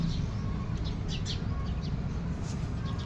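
Small birds chirp in quick, bright bursts over a steady low rumble of background noise.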